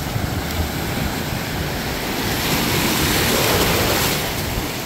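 Ocean surf rolls and crashes continuously on a beach, a broad steady wash of breaking waves with wind buffeting the microphone, building slightly toward the end, no voices.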